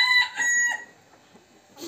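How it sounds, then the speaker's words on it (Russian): A rooster among chickens out in a vegetable garden gives a short, close crow, followed by a pause and a brief cluck. "куры сегодня благодаря дезинфекции вышли в огород прогуляться"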